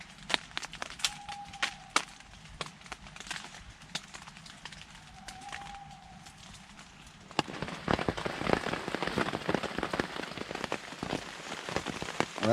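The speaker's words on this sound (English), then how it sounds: "still pouring down with rain" Heavy rain pours onto a camp tarp at a solo winter stealth camp in the UK, a dense patter of drops that swells to a louder, thicker drumming midway.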